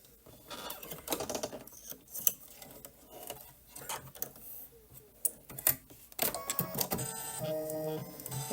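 An embroidery machine stitches a small flower fringe detail in very light pink thread, rapid ticking and tapping needle strikes of uneven loudness, then a denser buzzing run near the end.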